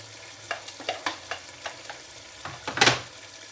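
Chicken and green beans frying with spices, coriander and chilli, a quiet sizzle broken by a series of spoon scrapes and taps against the pan, the loudest scrape near the end.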